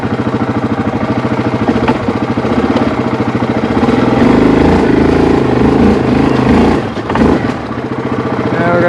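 A Kodiak four-wheeler ATV engine chugs loudly in four-wheel drive, rumbling close by with uneven revs that rise and surge, then dip briefly before picking up again.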